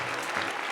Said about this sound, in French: Applaudissez chaleureusement nos plus beaux modèles.